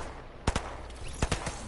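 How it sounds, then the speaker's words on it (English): Two quick pairs of distant gunshots in Fortnite, muffled and sharp against steady game ambience. "Gunfire that way."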